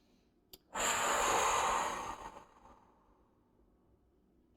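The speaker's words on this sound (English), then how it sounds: "Deep breath in." One deep, slow breath is drawn in during a shoulder stretching exercise, a close, airy rush lasting about a second and a half that then fades out, with quiet around it.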